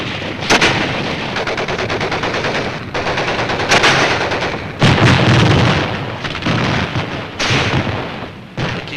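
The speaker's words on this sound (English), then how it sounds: "A mortar barrage searches out hidden machine gun nests." A mortar barrage and machine gun fire in battle on Iwo Jima during the Pacific War: loud, rapid bursts of automatic fire mixed with heavy booming impacts, continuous and close.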